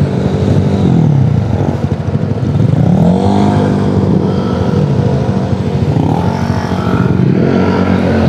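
A Honda PCX scooter ridden on a road trip through Infanta, Quezon, its engine droning steadily and loud throughout with rising and falling pitch as the rider throttles up, wind rush mixed in.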